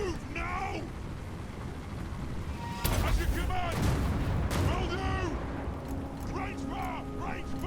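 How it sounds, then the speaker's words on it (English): Dwarf organ guns and Doom Divers fire during a Total War Warhammer battle, giving a dense run of booming volleys, the heaviest bursts striking near the middle. Shrill whistling sweeps cut through, and a voice can be heard throughout. "Okay, my organ guns have opened fire."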